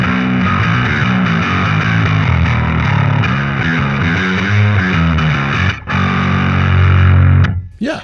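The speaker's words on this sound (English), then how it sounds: "it's a really raunchy and dirty and classic distortion" A heavily distorted bass guitar played through an effects unit, thick and gritty, a riff of low notes that cuts off near the end.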